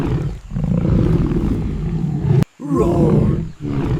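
A lion roars loudly in a children's animal sounds song, a long strong growling roar, a brief break, then another roar.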